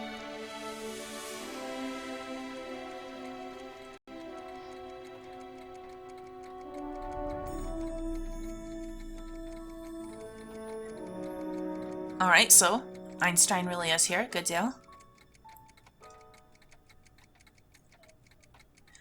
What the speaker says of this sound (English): I've seen that type of cat clock before.